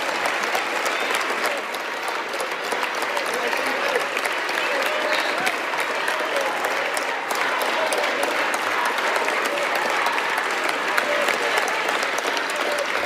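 An audience claps and cheers in sustained, even applause at a political speech, loud and continuous from start to finish with no voices over it.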